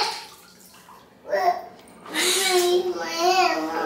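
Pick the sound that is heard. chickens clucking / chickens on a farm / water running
water running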